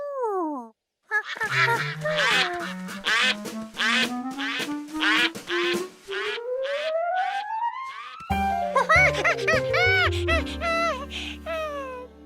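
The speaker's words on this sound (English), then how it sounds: "Ducks go where there's plenty of water." Ducks quack repeatedly in loud, close bursts, the calls overlapping in a busy chorus with a rising tonal whistle partway through.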